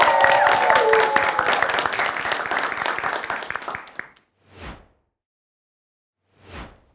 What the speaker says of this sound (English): Let's give her another round of applause, folks.